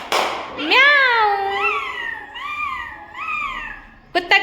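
Children imitate a cat's meow, a few drawn-out, wavering meowing cries from one close voice in a row, followed by a brief clap or thump at the end.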